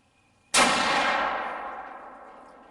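A single close, loud rifle shot fired while zeroing a rifle: a sharp instant crack followed by a long, slowly fading ringing tail, with no talk over it.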